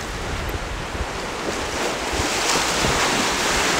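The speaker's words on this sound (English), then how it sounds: "you can see the waves of water from this lake" Wind-driven waves breaking steadily along the shore of Lake Kivu in Rwanda, a continuous broadband rush of surf with wind buffeting the microphone, loud and close with no voices.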